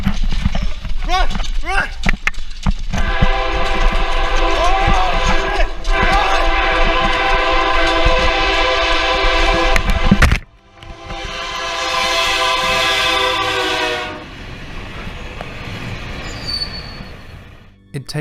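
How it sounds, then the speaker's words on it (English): A train approaching in a tunnel roars steadily and loudly for several seconds, then a second loud rumbling burst follows, with clattering and shouting voices mixed in. "they suddenly start to hear a train approaching in the near distance."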